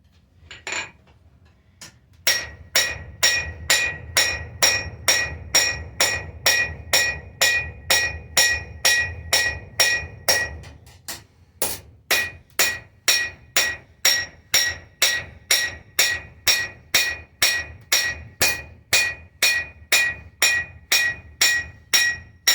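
Steady, ringing metallic hammer blows on rebar, dozens in a regular rhythm, loud and close, with a brief pause partway through.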